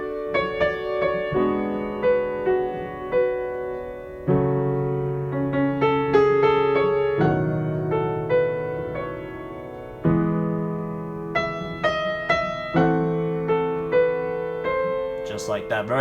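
Piano playing the chord patterns of a song, a steady flow of sustained chords with shifting bass notes and upper harmonies, even and moderately loud with no talking.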